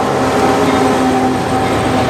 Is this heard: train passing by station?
yes